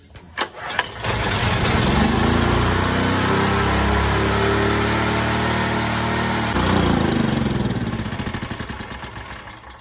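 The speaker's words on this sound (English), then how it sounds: "So we're gonna start out this generator right now for you to see." A portable generator engine starts after a few cranking pulls and then runs loud and close at an overly high speed, a steady dense roar with a slight shift partway through.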